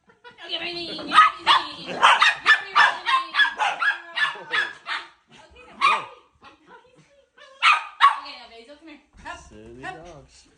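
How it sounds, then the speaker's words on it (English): Dogs bark and yip in short, excited bursts, close and fairly loud, broken by a few whimpers, with people talking over and between the barks. "There's another dog barking."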